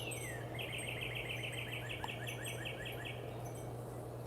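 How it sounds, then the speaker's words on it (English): Small birds chirp in a quick repeated trill of bright, even notes, fairly close and clear, over a steady low hum with no talking. "listen to the birds"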